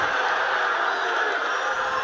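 Nebraska home crowd at a college wrestling match roars steadily and loudly throughout, a dense continuous cheer with no break as the fans urge a takedown in a 157-pound bout.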